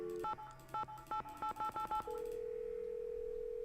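Touch-tone dialing in a Nancy Drew mystery game, with a quick run of about ten crisp keypad beeps in uneven rhythm. A steady ringback or dial tone follows and holds to the end.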